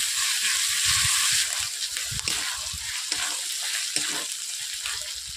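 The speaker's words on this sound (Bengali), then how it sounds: "পেঁয়াজ, আদা, রসুনকে আমি ভালোভাবে ভেজে নেব একসঙ্গে" Onion, ginger and garlic paste frying together in a pan for a katla fish curry, a steady close sizzle with soft crackles and occasional stirring scrapes, no voices.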